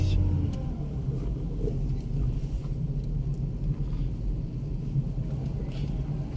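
A car engine rumbles and revs steadily on a driving test course in Izmit, a continuous low drone heard from inside the vehicle, with no clear speech.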